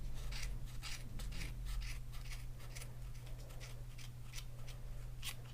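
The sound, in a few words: scissors cutting yarn on a Clover pom pom maker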